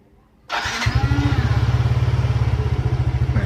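A Yamaha Fino scooter engine started remotely from a phone cranks briefly, then catches and settles into a steady, close, loud idle with a rapid regular putter.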